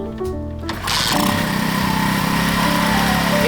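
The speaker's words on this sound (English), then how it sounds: "Switch on, choke up, see if we can get it to go." Lifan engine fitted to a barn-find Honda S90 motorcycle, a few clicks and a short crank before it starts and settles into a loud, steady, close idle.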